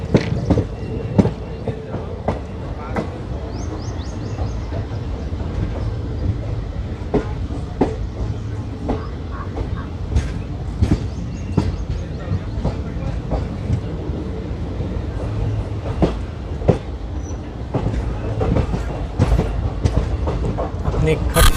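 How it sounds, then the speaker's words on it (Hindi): The Farakka Express arriving at Ayodhya Junction: a steady rhythmic clickety-clack of train wheels over rail joints under a rumbling carriage drone, close and continuous with repeated sharp knocks. "अपनी खट खट की आवाज़ को लेके हमारी ट्रेन अब आ पहुँची है अयोध्या जंक्शन"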